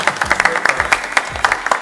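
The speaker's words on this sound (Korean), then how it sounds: "우리 고생해준 또 JB 씨한테 박수" A small group claps briskly and close up for under two seconds, quick distinct hand claps in an uneven rhythm, with voices chattering underneath.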